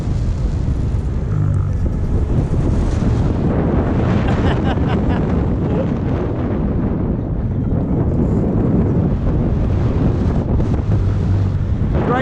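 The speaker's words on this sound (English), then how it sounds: "Just a bit windy" Steady, roaring wind buffets the microphone throughout a roller coaster ride at the Flamingo Land theme park, a loud, constant rumble with no break.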